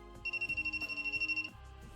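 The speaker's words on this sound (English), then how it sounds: "if we hold the voltage tester from the opposite side, then as we see, is ringing at longer distance from the bottle." A voltage tester held near a water bottle plasma generator emits a rapid, pulsing electronic beep for about a second, ringing in fast repeated bursts over a low background hum.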